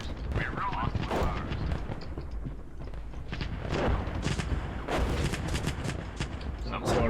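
Artillery and battle fire in the tank game GHPC, a steady loud barrage of crackling gunfire and rumbling mechanical noise with repeated sharp bursts throughout, under radio-style chatter.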